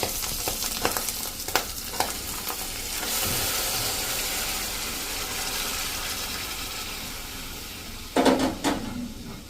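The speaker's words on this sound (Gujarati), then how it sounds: "અને હવે આપણે મલાઈ સહિતનું 1/2 લીટર દૂધ નાખશું મિત્રો." Half a litre of milk with cream is poured into green chili pulp roasted in ghee for a halwa, giving a steady soft sizzling hiss in the pan, with a few clinks of a utensil near the end.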